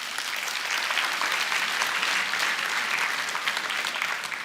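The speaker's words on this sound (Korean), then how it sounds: "박수 한번 부탁드릴게요." A church congregation applauds in a worship service, with dense, steady clapping throughout and no one speaking.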